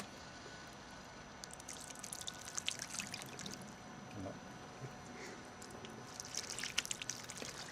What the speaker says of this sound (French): Et je vais verser de l'eau pour constater l'effet déperlant.